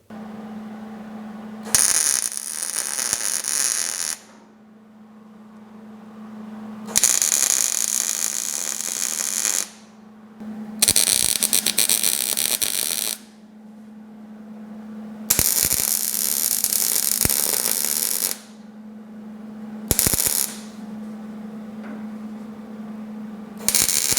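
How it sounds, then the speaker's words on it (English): An electric welder crackles and buzzes in several bursts of a few seconds each while seat belt mounts are welded onto a classic Pontiac GTO, with a steady mains hum in the quiet gaps. "So let's get the welder out and get those on there."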